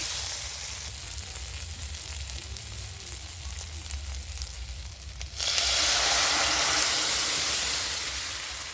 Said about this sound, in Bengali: তো এবার আমি ডালটা ঢেলে দেবো